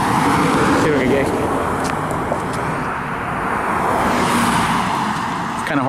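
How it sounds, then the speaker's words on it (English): Road traffic streams steadily past, a loud continuous rush of cars and engines close by with a few swells as vehicles go by, and a voice speaking under the noise. "It's kind of hard concentrating with a lot of traffic here."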